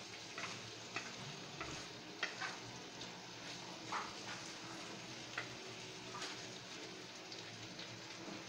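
Onion, chili and garlic sizzle steadily in a hot pan while being stirred, a constant crackling hiss punctuated by soft spatula scrapes and taps, close and moderately quiet with no talking.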